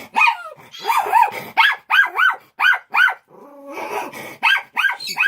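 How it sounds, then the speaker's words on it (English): A dog barks rapidly and repeatedly up close, loud sharp yaps in bursts with a short growling break in the middle. "That's my dog Nimbus."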